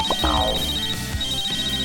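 A phone rings with a bright electronic ringtone, a short tonal melody of repeating beeps, loud and close with no voices over it.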